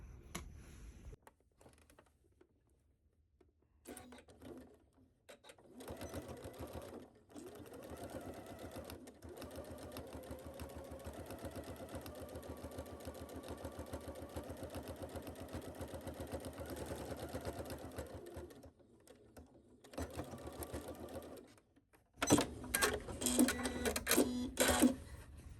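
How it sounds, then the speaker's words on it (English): A sewing machine runs steady top stitching along a cargo skirt pocket seam, a continuous mechanical whir lasting most of the stretch with short pauses and a louder clattering burst near the end. "you're going to top stitch along this edge here"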